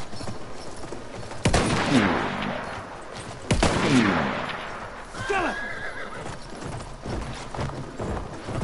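A horse in the Battlefield 1 multiplayer game neighs loudly twice in long descending whinnies, followed by a shorter one, over hoof clatter and scattered gunfire in the background.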